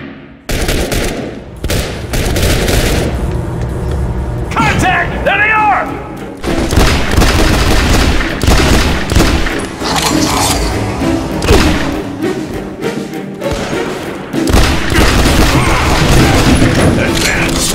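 Gunfire fills a third-person shooter game with loud, close bursts and repeated rapid volleys that barely let up, with an occasional boom mixed in.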